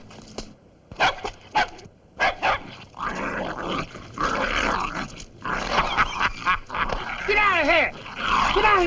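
A dog growls and snarls during a scuffle in an old black-and-white comedy short, rough and close, mixed with shouting voices that grow busier toward the end.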